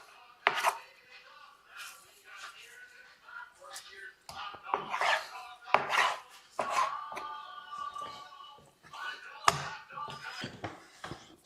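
A knife cuts meat from a deer's back leg along the seams, producing irregular close slicing and tapping sounds on a cutting surface, with a dog whimpering and barking nearby and a person talking intermittently.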